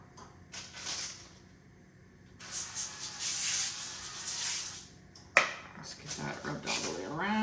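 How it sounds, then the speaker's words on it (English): Cooking spray hisses onto parchment paper in two or three short bursts, moderately close, with clinks of kitchen utensils and a voice talking in between. "I'm gonna go ahead and put cooking spray on my parchment paper"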